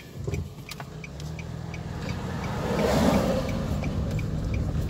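A car reverses during a driving lesson, its engine humming at moderate volume and swelling gradually as it backs up, with faint cabin noises and no clear speech.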